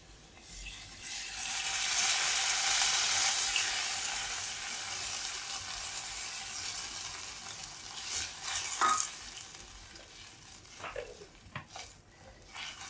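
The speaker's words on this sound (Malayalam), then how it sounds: "ഇനി നമ്മൾ എടുത്ത് വെച്ചിരിക്കുന്ന പുളിവെള്ളം ഒഴിച്ചു കൊടുക്കാം" Tamarind water is poured into a sizzling chili curry in a pan, with a loud hiss swelling and then fading, followed by a few scraping stirs and light clinks of a spoon against the pot.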